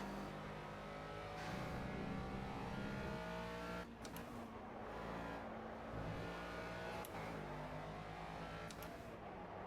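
Ginetta G40 race car in Project Cars on the Catalunya National circuit, a steady loud engine drone with gear shifts and a brief dip near the four-second mark, alone without talk.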